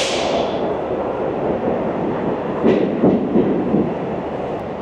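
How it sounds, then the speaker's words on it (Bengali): A passenger train on the new Jammu–Srinagar line rolls into Sangaldan station straight out of a tunnel, with a loud, steady close rumble, rattling wheel clatter and a few sharp clacks. "আমাদের ট্রেন প্রবেশ করছে সঙ্গলদান স্টেশনে"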